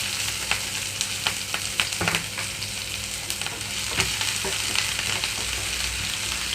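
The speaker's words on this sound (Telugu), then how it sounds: "ఉల్లిపాయలు ఇక్కడ సాఫ్ట్ కలర్కి వచ్చే వరకు వేయించుకుంటున్నాను" Chopped onions, green chillies and curry leaves with cumin fry in hot oil with a dense, loud, steady sizzle, punctuated by a few stirring scrapes and taps, and no voices.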